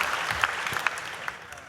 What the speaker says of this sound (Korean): 박수해 주십시오.